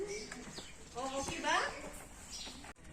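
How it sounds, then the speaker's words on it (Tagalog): Birds disturbed near a cave opening give scattered chirps and calls, some close and some further off, mixed with people talking. "Ayan, mga ibon na disturb sila nung dumating kami."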